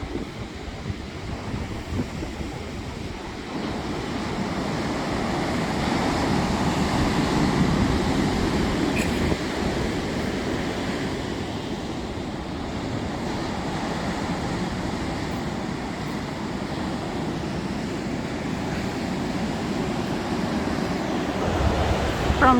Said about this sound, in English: The sea's quite choppy today.